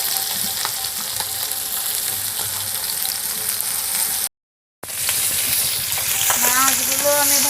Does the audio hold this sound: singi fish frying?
yes